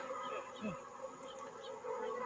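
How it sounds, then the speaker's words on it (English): Bees buzzing around the edges of a hive as a lid goes on, a faint, steady drone with a brief rising whine from one bee passing close. "Putting a lid on a bunch of bees that are around the edges"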